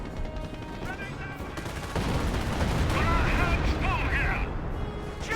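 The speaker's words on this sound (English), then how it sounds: "Looks like officer artillery." Officer-called artillery fire in Company of Heroes, with a dense rumble of shell impacts and gunfire swelling louder midway and running continuously under voices and game chatter.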